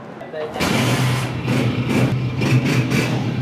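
Idling Honda 125 motorcycle, a 2023 model, holding a steady low engine drone from about half a second onward, close and fairly loud, with background voices and street noise around it.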